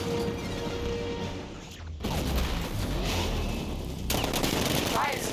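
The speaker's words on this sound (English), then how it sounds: "60mm cannon operational." A 60mm cannon fires in a Batman game, heavy rapid bursts of gunfire with booming impacts and mechanical clatter, loud and continuous with a brief break midway.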